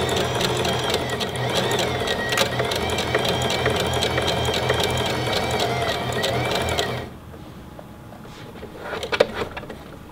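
A Singer Heavy Duty sewing machine stitching zigzag, a loud, fast, steady mechanical whir and rhythmic clatter lasting about seven seconds, then stopping abruptly, followed by quiet handling clicks.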